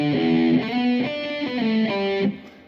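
A distorted electric guitar plays a short riff of sustained, gritty notes stepping through a few pitches, loud and up front with no voices.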